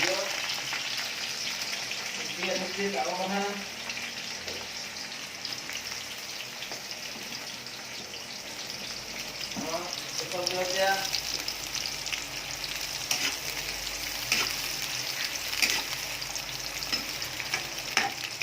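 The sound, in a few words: onions frying in oil for lemon-leaf chicken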